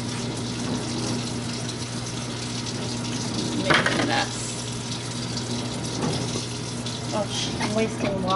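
Tap water runs steadily from a faucet while a mess is cleaned up after potting plants, a continuous gushing flow with a few faint clinks and a brief louder splash partway through.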